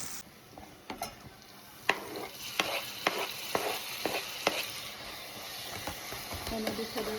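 Chopped tomato stirred into zucchini frying in a pan for an Indian-style dish: steady sizzling with a run of sharp spatula scrapes and knocks against the pan, close and clear.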